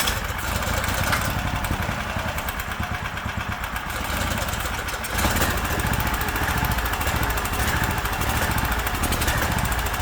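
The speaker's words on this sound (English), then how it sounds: "Let's just start the engine and send it and see what happens." Predator 420 small engine swapped into a cheap Hisun UTV, running rough after about a year unused: a loud, close, continuous chugging clatter with uneven pulses and no voices over it.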